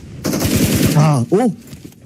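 A rapid automatic gunfire volley sounds in a PUBG Mobile esports match, a loud burst of closely spaced shots, while an excited commentator speaks over it.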